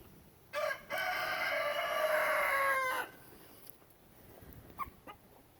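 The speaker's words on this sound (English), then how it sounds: "Rooster's Thor." A rooster crows once nearby, a drawn-out, fairly loud call lasting a couple of seconds, followed by quieter scattered clucks and rustling.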